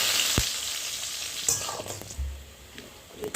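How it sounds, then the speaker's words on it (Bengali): Cashews and raisins frying in white oil with whole garam masala in a wok, a steady close sizzle with occasional utensil scrapes and knocks. "এবার কাজু আর কিশমিশ দেব।"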